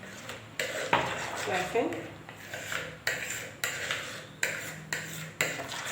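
Metal spoon scraping and clanking against a cooking pot as a meat and vegetable stew is stirred, in repeated sharp strokes roughly every half second, close and loud, with someone speaking briefly over it.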